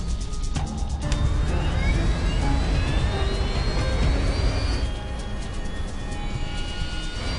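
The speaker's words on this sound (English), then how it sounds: "the left engine ignites." Airliner jet engine igniting and spooling up on a TACA Boeing 737 descending without power, a steady loud roar with rising whine tones sweeping upward, continuous and close throughout.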